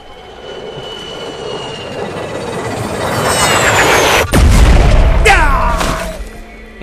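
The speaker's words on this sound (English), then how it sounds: "Alright, so I'm dropping a thumper" A thumper dropping from the sky and starting to work in the sci-fi shooter Firefall: a rising whoosh builds to a heavy slam, then a loud mechanical grinding rumble with metallic squeals that tapers off.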